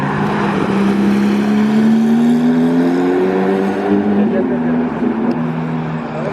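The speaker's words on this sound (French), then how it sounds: "il y a une Porsche GT3 RS qui arrive" Porsche GT3 RS of the new generation approaching through a hairpin in Monaco, a loud steady engine drone with a slowly rising then easing pitch, close and continuous throughout, with speech faintly present.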